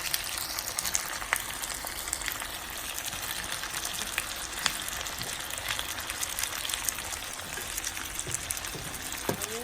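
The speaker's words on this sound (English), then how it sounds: "So we're gonna fry this until it's golden brown." Onions frying in a pan for biryani, a continuous close sizzle with crackling pops and occasional stirring scrapes, steady and moderately loud with no talking.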